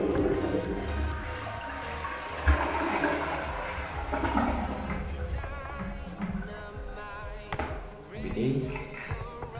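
A toilet flushes with a rushing, gurgling surge of water that drains and refills, close and fairly loud, while a person speaks over it.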